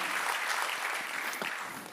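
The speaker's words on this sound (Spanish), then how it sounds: "le damos un aplauso más a nuestro Señor" A church congregation at a revival service bursts into dense, sustained applause that fills the room, steady and loud for the whole stretch and tapering only slightly at the end.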